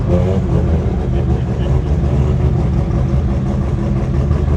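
Toyota Celica and Mazda RX-7 drag race cars at the 2024 Garrett Brisbane Jamboree idle and rumble together, a steady loud low engine drone with slight revving fluctuations throughout.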